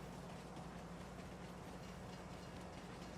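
A train in Farming Simulator 19 runs steadily along its track on the New River map, a faint continuous rumble with a soft rolling clatter.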